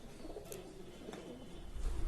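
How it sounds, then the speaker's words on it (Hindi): Pigeons coo softly on a home balcony, a few faint, distant calls under a low, steady background hiss, with no one speaking. "तो वैसे तो मोस्टली कबूतर है हमारे यहाँ, तो आते हैं खाते हैं"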